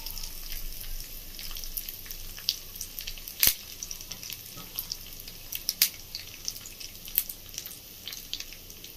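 A spoonful of cumin seeds frying in hot oil gives a steady close crackling sizzle with scattered sharp pops and spits throughout, no speech.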